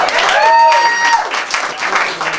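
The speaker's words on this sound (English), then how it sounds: "It's not cheap applause," An audience at a Rhode Island stand-up comedy competition bursts into loud, close clapping, topped by a brief shouted whoop, then fades within a couple of seconds.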